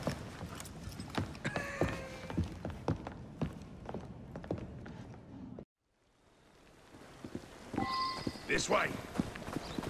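Horse hooves clip-clop at a walking pace for a horse-drawn carriage in the Victorian London of Assassin's Creed Syndicate, with some mechanical creaks and voices talking over them. A brief cut to near silence follows before the scene resumes.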